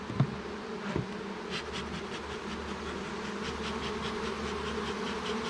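Honey bees pour out of a hive frame during queen-rearing work, making a dense, continuous close-up buzz that stays steady throughout, with a couple of soft knocks near the start.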